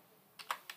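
Three quick computer keyboard keystrokes while a captcha code is typed into a form, close and fairly quiet, with the middle press loudest, over a faint room hiss.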